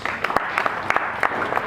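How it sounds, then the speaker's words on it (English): Students at an inter-school parliamentary debate competition applaud themselves, a brief burst of dense clapping with a few sharper hand claps standing out. "Give a round of applause to yourselves."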